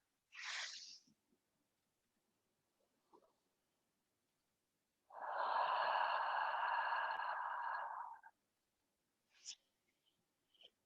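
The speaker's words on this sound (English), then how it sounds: "inhale through the nose, breathe into the belly again in that three-dimensional way, and then exhale through the mouth" Slow deep breathing: a sharp inhale through the nose, then a long, steady exhale through the mouth lasting about three seconds, with another short nasal breath after it, close and quiet in an otherwise silent room.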